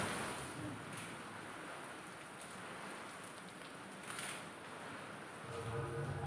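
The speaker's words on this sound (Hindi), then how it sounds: "इतनी तेज बारिश हो रही है, अंदर तक पानी आ रहा है।" Heavy rain pouring down hard enough for water to come indoors, a steady, dense hiss and patter of drops on surfaces that continues throughout with slight swells, with no talking.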